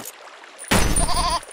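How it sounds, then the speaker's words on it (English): Goat bleating in the video game There Is No Game, a single loud wavering bleat that comes in abruptly after a brief quiet stretch, with some game sounds beneath it. "The goat was alive!"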